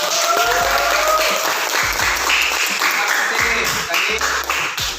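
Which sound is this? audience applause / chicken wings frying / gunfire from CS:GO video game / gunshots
audience applause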